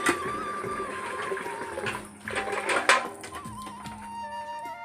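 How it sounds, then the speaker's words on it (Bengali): Water poured from a container into a household water filter, a steady splashing pour of moderate loudness with brief clunks partway through, heard indoors alone. "ওদিকে জল নিয়ে ফিল্টারে দিয়ে দিলাম"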